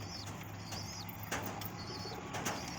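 A Madras high-flyer pigeon is released and beats its wings in a couple of soft, brief bursts, faint against quiet background noise with thin chirps now and then.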